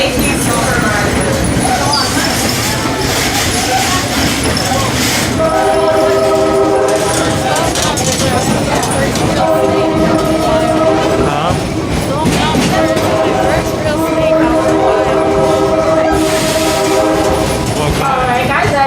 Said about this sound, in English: that train horn right there lets us know that Little Red has an important update for us